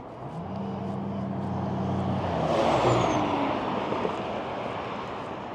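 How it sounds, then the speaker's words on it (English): Road traffic on Harmon Avenue in Las Vegas, a steady roar of passing cars and trucks that swells as a vehicle drives close by around the middle, then eases off, with no talking. "A lot of traffic comes up here on Harmon, as you can tell."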